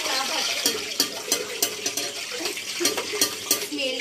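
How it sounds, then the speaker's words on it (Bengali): Hot oil sizzles and spits in a pan while biryani is being prepared, with a steady frying hiss broken by frequent sharp pops and crackles close up, with no talk. "তেল লাফাচ্ছে। ফুটন্ত তেল।"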